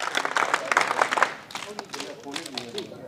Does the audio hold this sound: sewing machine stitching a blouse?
no